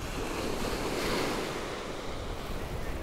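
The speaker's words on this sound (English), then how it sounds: "You can see how the Atlantic Ocean rolls in through the breach here now into the bay." Atlantic Ocean surf rolls steadily in through a breach at Fire Island into the bay, a continuous broad wash of breaking waves with gusty wind buffeting the microphone throughout.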